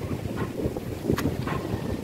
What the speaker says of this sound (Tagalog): Pasensya na kayo, dili kayo kuan kay kusog kay hangin.